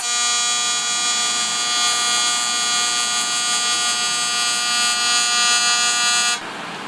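An argon TIG welder on aluminium, switching between DC and AC, gives a loud, steady, tonal electric buzz that holds for over six seconds before cutting off abruptly.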